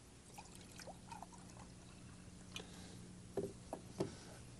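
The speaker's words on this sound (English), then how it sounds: "I'm going to add some clear lake water to these jars." Clear lake water is poured into jars, a quiet trickling stream with brief gurgles and splashes that strengthen near the end, heard close up against a low steady hum.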